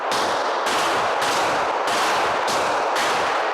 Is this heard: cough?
no